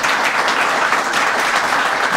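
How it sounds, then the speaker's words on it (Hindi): A church congregation bursts into loud, sustained applause during a sermon, dense clapping filling the hall evenly from start to finish with no talk over it. "आइए खुदावंद के लिए जोरदार ताली।"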